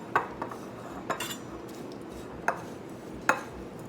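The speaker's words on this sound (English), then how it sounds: "And we're just going to mix all this up." A spoon mixes dry herbs, including golden seal, in a bowl, making a few sharp, separate clinks and scrapes with quiet pauses between them, close and fairly soft.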